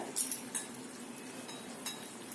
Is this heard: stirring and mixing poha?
yes